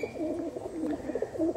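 Andhra red-headed pigeons, a set of three, coo in steady, repeated low murmurs close by, with no voices over them.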